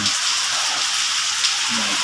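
Rain falls steadily, a dense, even hiss that stays loud and unbroken from start to finish.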